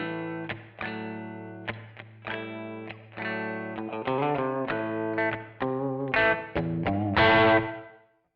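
An electric guitar played through a Kemper Profiler rings out in chords and single notes with a dynamic reverb, the tail swelling and blooming more as the playing gets louder toward the end, with no voices.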